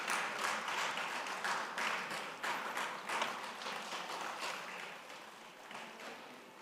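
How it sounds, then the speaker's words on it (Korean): A church congregation applauds during a Sunday worship service, a dense patter of many hands that holds steady, then slowly fades toward the end. "박수 쳐주세요."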